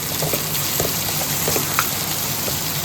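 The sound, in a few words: frying eggplant and tomato in oil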